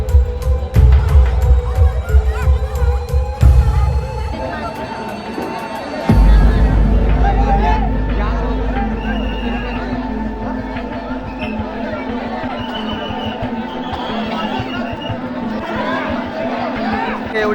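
A dense crowd of stranded commuters murmurs and chatters during heavy rain in Vasai Virar, a steady hubbub of many voices filling the scene, with a sharp shift in the noise partway through and a constant roar of rain and movement beneath.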